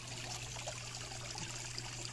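Water trickles steadily from a koi pond waterfall, a continuous soft splashing and gurgling at moderate distance over a low electrical hum, with no voices.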